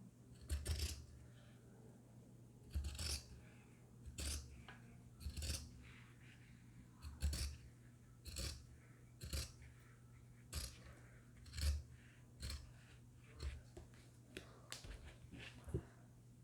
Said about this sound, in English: you're just going to cut this seam allowance down